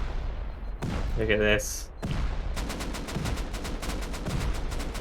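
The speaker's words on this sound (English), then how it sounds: "Explosions just going one by one." Explosions and gunfire in the video game Rust during an 8v8 tournament base raid: a dense rolling barrage with a hard burst midway, then rapid repeated blasts, while a voice speaks briefly over it.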